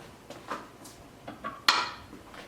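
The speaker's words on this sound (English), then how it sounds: "stir this so that all the apples get coated" A spoon stirs sliced apples with cinnamon and salt in a baking dish for an old-fashioned apple crisp, giving a few scattered soft clinks and one sharper knock in quiet surroundings.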